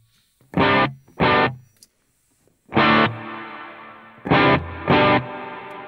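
Electric guitar plays short distorted chords in bursts, each swelling and trailing off into a lingering bloom reverb wash between strikes.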